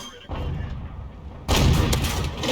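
A tank cannon round fired in a tank video game slams into a target, a loud booming blast at about 1.5 seconds layered over continuous rumbling battle noise.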